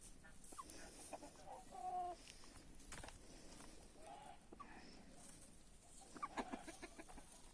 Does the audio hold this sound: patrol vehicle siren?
no